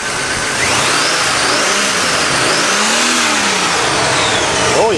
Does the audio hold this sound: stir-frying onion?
no